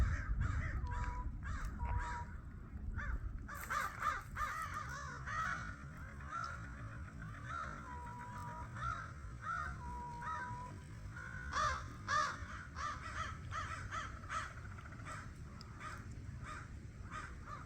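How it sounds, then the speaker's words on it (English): Several crows caw repeatedly at a distance, harsh calls scattered over faint outdoor background noise in an open river bosque area. "I hear the crows"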